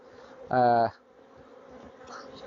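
A honeybee buzzes past close by near a garden hive in a wildlife garden, one loud half-second drone that fades into quiet outdoor background, with faint buzzing returning later.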